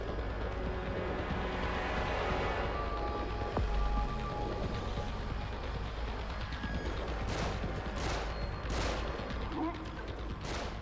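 Gunfire rattles through a steady, dense wash of noise in the video game The Evil Within, with several sharper, louder bursts of shots clustering toward the end.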